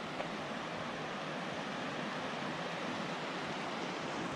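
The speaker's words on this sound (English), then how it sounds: "There's the river." The Middle Fork Snoqualmie River rushes beneath a suspension bridge, a steady, even wash of flowing water close by with no talk over it.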